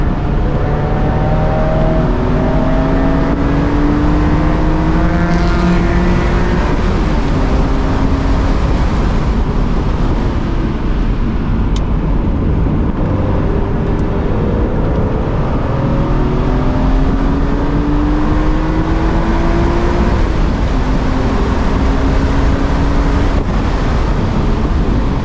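A 2006 BMW Z4 M Roadster on grippy RE71 RS tires driving hard through corners, engine loud and close as its tone rises and falls through gear changes, with constant wind rush over the open roadster, no talking.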